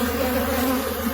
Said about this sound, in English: These bees are feisty.